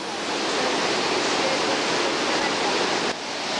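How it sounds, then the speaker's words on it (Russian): Victoria Falls in Zimbabwe roars with a dense, continuous broadband rush of falling water, loud and unbroken with no gaps, nearby and filling the whole scene. "Водопад Виктория!"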